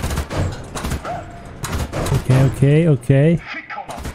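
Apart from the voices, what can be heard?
autocannon firing in video game War Thunder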